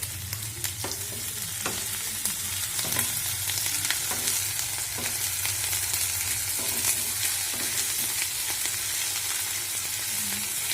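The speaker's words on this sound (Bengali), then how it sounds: "এবার আদা পেস্ট করে রাখা আছে সেটা দিয়ে দিচ্ছি। এগুলো ভালো করে কষে নেব।" Tomato and ginger paste sizzles steadily in a hot pan for a Sunday meat dish, with a continuous frying hiss broken by regular scraping and stirring clicks throughout.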